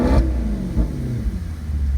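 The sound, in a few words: Maserati GranTurismo exhaust revving in sport mode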